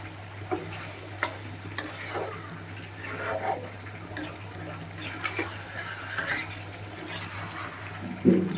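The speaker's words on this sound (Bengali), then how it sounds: "2-3 মিনিট একটু এরকমভাবে নেড়ে দেবো।" Fish curry is stirred in a frying pan over a gas flame, with soft scraping and light wet sizzling heard faintly at close range over a steady low hum, with a louder clack near the end.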